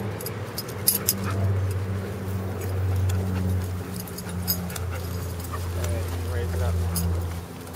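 A dog whimpers and gives a few barks close by in an outdoor setting with other dogs around, over a steady low engine-like hum, with occasional clinks and rustles.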